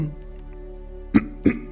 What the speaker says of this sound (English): You're probably gonna hear me cough every now and then.